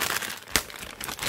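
Plastic film packaging from a tissue pack is torn open and crinkled up close, with a sharp ripping burst in the middle amid continuous rustling crackle.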